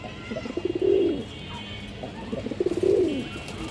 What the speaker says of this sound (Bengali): বাঘা খাকি কবুতর দেখেন খুব সুন্দর কবুতর